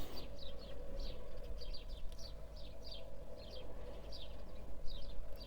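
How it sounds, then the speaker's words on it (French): Small birds chirp outdoors in quick, repeated high bursts, fairly faint and spread across the whole stretch over a low steady background hum, with no talk. "les petits oiseaux gazouillent"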